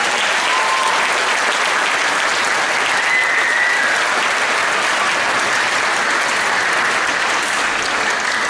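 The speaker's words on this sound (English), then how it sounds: "So how about a round of applause for our slam competition?" Steady, full applause from a school audience at a middle school spring orchestra concert, loud and sustained throughout with no pauses, a dense wash of many hands clapping together.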